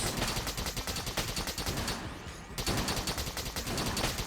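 Rapid-fire cactus gun in Exit the Gungeon, a dense stream of quick, evenly spaced shots with a brief lull midway before the barrage resumes loud and close.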